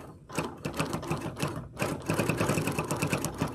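A sewing machine quilts down a charm pack quilt, fast rattling stitches running nearly continuously and close by, with one brief pause partway through.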